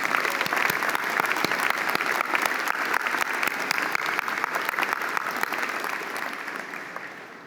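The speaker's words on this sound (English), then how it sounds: "Please join me in giving another round of applause to Chancellor Point." A convocation audience gives a steady round of applause, a dense wash of many clapping hands that holds evenly and then fades slightly at the end.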